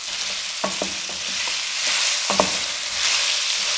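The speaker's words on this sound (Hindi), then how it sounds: "लो फ्लेम पे भिंडी को हम फ्राई करेंगे।" Okra (bhindi) frying in oil over a low flame, a steady soft sizzle close by with a few light clicks of stirring, no voices.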